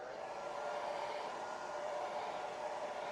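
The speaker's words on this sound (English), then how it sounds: "So put the hair dryer on." A steady, airy whoosh of a hair dryer drying a watercolor painting, blowing continuously, fairly quiet and even throughout with no voices.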